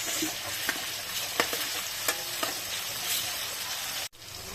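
Onion, ginger and tomato sauté in hot oil with a steady, bright sizzle and occasional soft stirring clinks, close and continuous, cutting off abruptly near the end.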